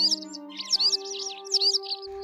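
A white wagtail gives repeated bright, sharp chirping calls to its flock, close and clear, over a steady low electronic hum with a few sustained tones.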